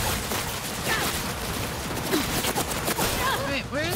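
Rapid turret gunfire in Cyberpunk 2077: Phantom Liberty, a dense, continuous burst of automatic shots that runs the full length with no clear breaks.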